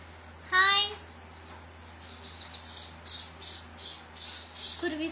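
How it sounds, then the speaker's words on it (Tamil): Several short high squawking chirps in quick bursts from a small bird, likely a sparrow, following a brief louder call at the start, with a steady low hum underneath and no talk during the calls. "குருவி சவுண்ட் கேக்குதா?"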